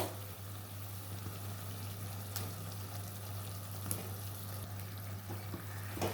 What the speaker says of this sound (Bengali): এবার দিয়ে দেবো আলুটা এক এক করে আলুটা দিয়ে আবারও কিছুক্ষণ কষিয়ে নেবো